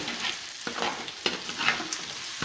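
Crushed tapioca sizzles steadily in a hot pan while a spoon scrapes and stirs it in several quick strokes, close and moderately loud, with no speech.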